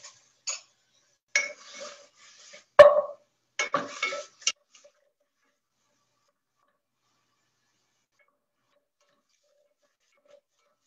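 Mushrooms dropped into a pot of spicy veggie ramen with cabbage, spinach and carrots, a scattered series of light clinks and thuds over a few seconds, followed by a long silence.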